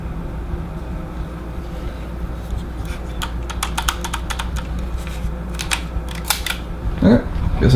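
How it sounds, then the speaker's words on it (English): Sharp mechanical clicks from the button and shutter of a camera fitted with a Solinar lens, a cluster of close, crisp ticks over a steady background hum, ending with a brief louder rustle of handling. "after I'm done clicking the button."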